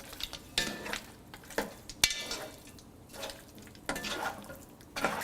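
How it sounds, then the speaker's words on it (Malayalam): Cooked mutton pieces being stirred into masala in a pan for mutton curry: a quiet, low sizzle with repeated scrapes and clinks of a spoon against the pan, close by and without speech. "ഇതിലോട്ടിട്ട് നന്നായിട്ട് മിക്സ് ചെയ്യുക"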